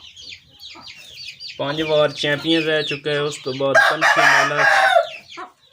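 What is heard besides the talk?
Aseel rooster (Shajra breed) crowing and clucking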